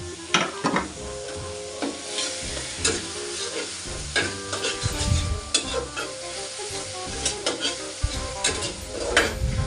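Chopped onions fry in hot oil while prawns are cooked, a steady sizzle broken by frequent scraping stirs and clinks of a spoon against the pan, close and fairly loud.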